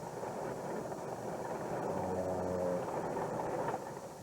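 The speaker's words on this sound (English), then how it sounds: "detour train QNY-LA is traveling at 55 miles an hour on its way to Los Angeles" Santa Fe detour freight train, QNY-LA, led by Jeep 60 diesel units including a cabless unit and a trailing 60M, rolling at about 55 mph past Springer and the Salado Creek Bridge; steady, distant rumble.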